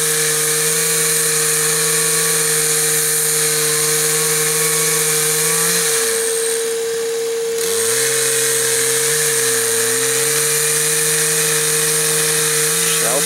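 A power tool cuts into wood to open a bee hive during a bee relocation. The motor whines steadily and loudly, dips briefly as it bogs down mid-cut, then surges back up to speed.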